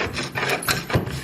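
A scraper works old layered paint off metal trim plates, a few rough rasping strokes in quick succession, close and fairly loud with gritty scratching texture.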